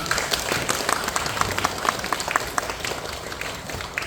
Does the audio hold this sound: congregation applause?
yes